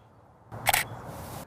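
A single crisp shutter click from a single-lens reflex camera taking a portrait photo, close and clear against a quiet room.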